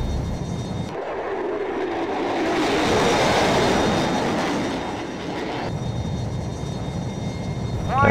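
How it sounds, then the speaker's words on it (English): Roaring F-22 jet afterburners at full thrust in the flight-combat game Total Air War, a steady broadband engine rush that swells through the middle and eases slightly toward the end, with no talking. "I've got my afterburners on full blast."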